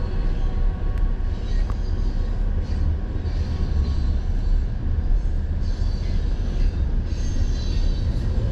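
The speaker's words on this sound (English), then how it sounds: "when I spotted a train approaching on the tracks in Mena" A train rolls by on the tracks in Mena, a steady rumble of railcars and wheels with faint squeals, heard from nearby throughout.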